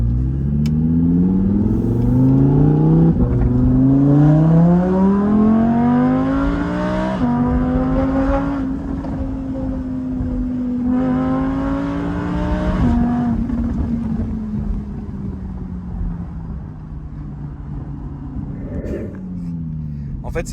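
An Audi R8 Spider convertible revs hard through repeated rising gear pulls on an open road, its engine note climbing and shifting several times, loud and close, with occasional talk over it.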